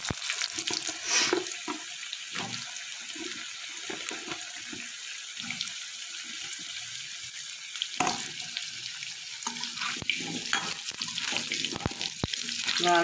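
Cut potatoes fry in mustard oil in a kadai, giving a watery hiss and bubbling sizzle up close, with intermittent clinks and scrapes from stirring, no voices.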